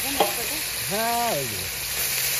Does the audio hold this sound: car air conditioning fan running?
no